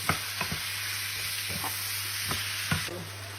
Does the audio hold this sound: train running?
no